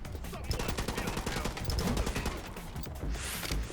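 Rapid gunfire from the video game The Club on Xbox 360, a dense run of loud, close shots rattling steadily through the whole stretch with brief gaps, heavy and continuous.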